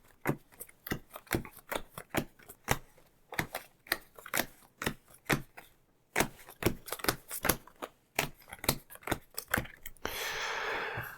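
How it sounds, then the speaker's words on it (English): A deck of cards is shuffled quickly at a tabletop during a board game, making rapid bursts of crisp riffling clicks in close, uneven rhythm, broken by brief pauses and ending in a soft hiss. "I'm just going to do a very quick shuffle"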